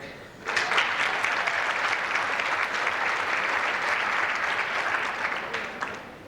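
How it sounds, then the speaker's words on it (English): Conference audience at a 1996 team conference breaking into applause for a colleague, a dense, even roar of many hands clapping that starts abruptly and holds steady for several seconds. "A little applause for Tim."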